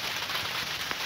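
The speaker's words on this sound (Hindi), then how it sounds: "हल्की की बारिश अब तेज़ हो रही है" Heavy rain pouring steadily outdoors at a birthday event venue, a dense, even hiss of falling water with no gaps over the short stretch.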